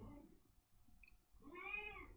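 A cat meows loudly, one short cry followed after a pause by a longer, drawn-out wailing meow, up close and alone in an indoor room.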